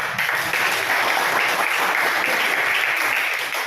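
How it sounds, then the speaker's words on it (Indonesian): A classroom of students claps steadily after a presentation, a dense, even burst of many hands lasting several seconds with no voices over it. "Oke, berikan aplaus."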